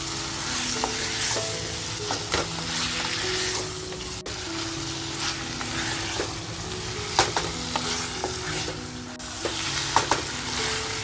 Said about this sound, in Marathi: मस्त आपल्याला हे ना फ्राय करत राहायचं आहे